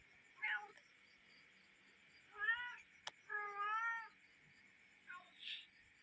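A cat meows several times late at night. The drawn-out cries come in separate bursts from moderately close, with a faint hiss and insect chirring behind them and no one speaking.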